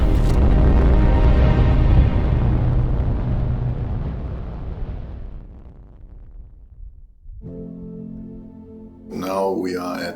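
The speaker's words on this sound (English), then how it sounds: "The first ever test firing of this German innovation." A German HyImpulse hybrid rocket motor test-fires on the Shetland Islands with a loud, broad, roaring blast that fades over several seconds, followed by a steady tonal hum and then someone speaking.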